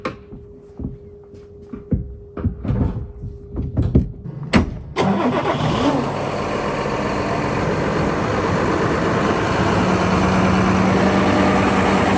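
Clicks and clunks lead into a tractor engine cranking and catching, then settling into a steady, loud, rumbling idle that continues to the end.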